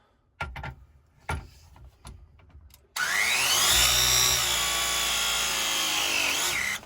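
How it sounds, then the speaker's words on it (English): A Milwaukee M18 Force Logic press tool presses a black-pipe tee fitting on a gas line. A few sharp clicks and knocks come first, then the tool's loud motorized whir rises in pitch, holds for several seconds and stops. "has got the Milwaukee M18 Force Logic press tool"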